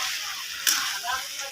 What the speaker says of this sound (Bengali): ভালো করে আলুটার সঙ্গে কষিয়ে নেব সবজিটাকে।